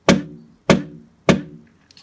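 Three sharp clacking knocks, evenly spaced, each a hard hollow impact of a Roland XV-88 keyboard key hammer hitting metal with its felt cushion missing, ringing briefly before fading, close and fairly loud, with a faint tap at the end.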